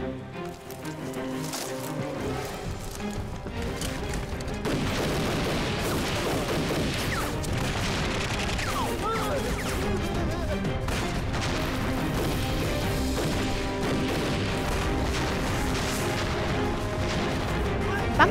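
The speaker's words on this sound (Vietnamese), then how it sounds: "Tiếng súng ở đâu vậy?" Dense, continuous gunfire and artillery booms roar through a war film battle scene against the Japanese, a loud sustained barrage of shots and blasts with layered crashes and no clear speech.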